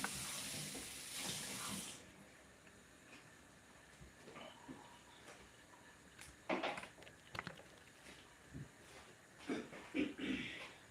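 Eggs washed under a running kitchen tap, with a strong stream of water at first, then quieter clinks, handling noises and splashes from close by.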